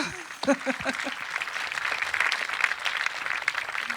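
An outdoor audience in Sardinia applauds the Monte Prama Foundation, with a brief voice at the start before moderate, steady clapping fills the rest.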